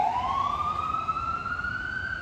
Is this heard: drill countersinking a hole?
no